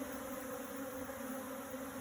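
African bees buzz around their queen inside a box, a steady, faint, continuous hum of many insects close by with no break.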